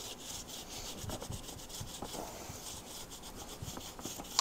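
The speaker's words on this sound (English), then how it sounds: "let's just get some of the grease and grime and crap off of this wheel" A steady close scrubbing rasp as grease and grime are cleaned off an old drilled race-style motorcycle wheel on an Ironhead Sportster chopper, continuous brushing strokes alone with no voices.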